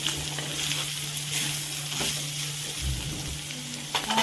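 Fried potato pieces stirred into a hot pan, a steady close sizzle running throughout with occasional scraping and a louder clatter near the end.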